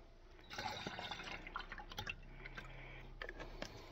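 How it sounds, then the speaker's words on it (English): Whiskey trickles and gurgles quietly back into a bottle, with a few soft drips and splashes near the microphone. "it's faux pas to pour whiskey back in the bottle"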